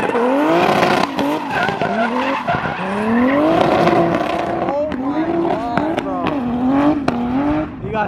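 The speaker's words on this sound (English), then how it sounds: "Let's see Sam driving." Tires squeal and skid continuously as a car drifts along a wall at a drifting event. The pitch sweeps repeatedly and the engine is loud, with voices talking over it.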